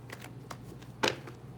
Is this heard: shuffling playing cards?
yes